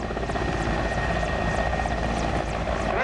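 Military helicopter of the Lithuanian Air Force flying at the Vilnius airshow, a steady loud rotor roar with engine whine, continuous and close throughout.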